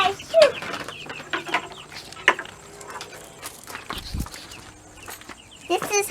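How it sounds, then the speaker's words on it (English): Chickens on a farm make scattered clucks and short calls at feeding time, mixed with nearby footsteps and handling noises in brief, irregular bursts. "Let's go feed chicks."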